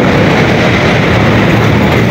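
An LRT train rumbles past overhead on Rizal Avenue at the 10th Avenue corner, a loud, steady, dense roar filling the whole stretch with no break, heard from below the elevated station.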